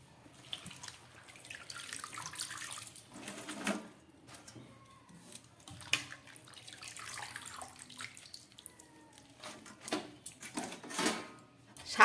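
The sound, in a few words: draining water from washed Malabar spinach leaves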